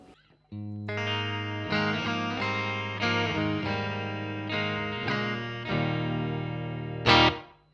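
Electric guitar played with a clean amplified tone through a Marshall amp alone, no pedal, a sequence of sustained strummed chords ringing out steadily, ending with a brighter, louder accent.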